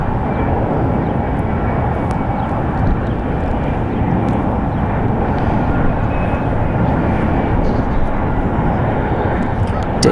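A CRJ-700 regional jet touches down at San Francisco airport, giving a loud, sustained low engine rumble and roar that stays steady throughout.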